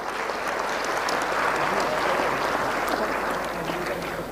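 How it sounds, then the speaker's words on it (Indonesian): An audience applauds at a Quran memorization gathering, with dense, continuous clapping from many hands that holds steady for a few seconds before easing slightly. "Berikan aplaus untuk semuanya dulu"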